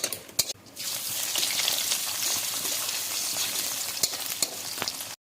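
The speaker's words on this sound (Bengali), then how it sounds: "এটা মোটামুটি ভাজা হয়ে গেছে" Onions sizzle and crackle as they fry in mustard oil in a pan with whole garam masala and bay leaves, a steady close hiss broken by a few sharp stirring clatters, with no voices.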